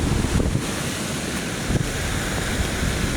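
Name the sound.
storm wind and sea waves during Typhoon Basyang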